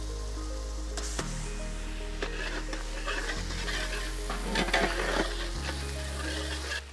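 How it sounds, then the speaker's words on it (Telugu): Ginger garlic paste sizzles in hot oil in a pan while a fish curry is cooked, a steady close frying hiss with stirring scrapes and crackles running throughout. "వెంటనే దీంట్లోనే మనం అల్లం వెల్లుల్లి పేస్ట్ యాడ్ చేద్దాం."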